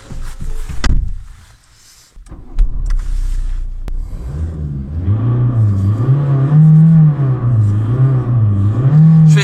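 A car engine revs repeatedly to blow soot out of the exhaust, rising and falling in steady surges that grow loud and close after an uneven start.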